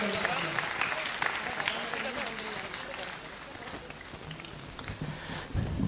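An audience at a Hindi poetry gathering (kavi sammelan) in Udaipur claps steadily in a soft, distant patter that continues for several seconds, with faint murmuring underneath.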